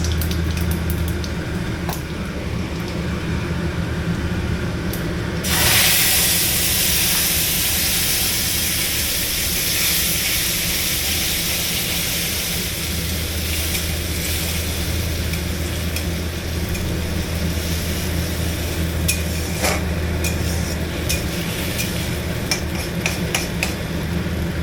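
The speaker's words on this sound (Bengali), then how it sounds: "এবারে মশলাটাকে খুব ভালো করে ভাজতে হবে, তেল ছাড়া পর্যন্ত এটা ভাজা হবে।" Cumin, bay leaf and ground spice paste fry in hot oil, a steady loud sizzle that jumps up sharply when the wet paste goes in, with occasional stirring clinks against the pan.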